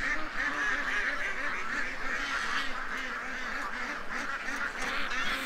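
A flock of ducks quacks and honks continuously on a busy morning, a dense, steady chorus of overlapping calls close by.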